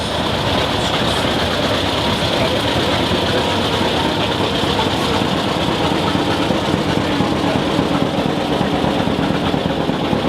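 A 1962 John Deere 3010 tractor runs in an outdoor parade, its engine giving a loud, steady, unbroken rumble and roar that holds for about ten seconds with no talk.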